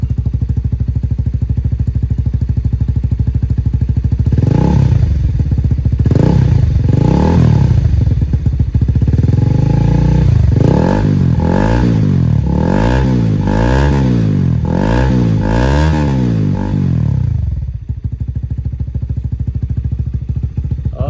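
A Honda CBR1000R sport motorcycle idles with a steady rumble, then its stock exhaust revs repeatedly in sharp rising and falling blips before settling back to idle.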